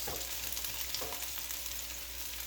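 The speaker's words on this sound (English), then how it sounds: "There's a little bit of splattering, but it would be much worse had we not dried these vegetables." Vegetables that were dried beforehand fry in a hot pan, a steady close sizzle with crackling splatter throughout and a couple of brief louder pops.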